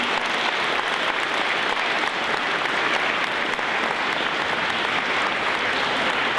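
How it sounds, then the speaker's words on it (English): Steady, loud applause from a school assembly audience, dense uninterrupted clapping throughout with no break or fade. "Could we give them a round of applause for their organization and work?"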